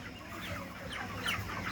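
Broiler chickens, a flock of a few hundred on a poultry farm, cluck and murmur in overlapping soft calls, a quiet continuous chorus heard close without talk.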